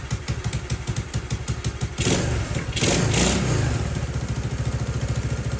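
A Honda CT70 motorcycle engine idles close by with a steady, rapid putter, swelling briefly into a louder rev before it settles back to an even idle rhythm.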